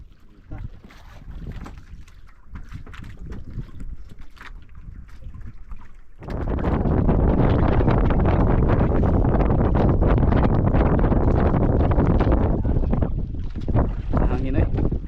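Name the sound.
wind blowing on a boat at sea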